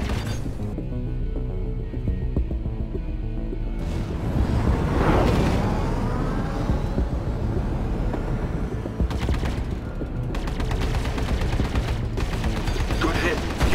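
Ship weapons firing in a Star Citizen space dogfight, with a dense, continuous rattle of ballistic and energy cannon bursts over engine roar and a rising whoosh, loud and close throughout.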